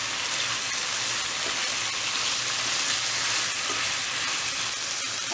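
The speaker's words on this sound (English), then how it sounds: "we're going to stir that in well and cook our beef for about 8 or 10 minutes" Beef sizzles and fries in a pan, a steady, close crackling hiss that holds evenly throughout without interruption.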